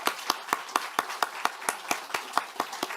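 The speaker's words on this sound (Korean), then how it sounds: "박수로 부탁드립니다." Audience applause at a party floor-leader election, heard as about twelve sharp, evenly spaced claps in quick rhythm, close and moderately loud with no talk over them.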